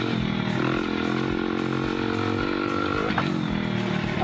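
A 110cc motorcycle rides around a course, its engine buzzing steadily near the microphone with small shifts in pitch and one brief rev near the end.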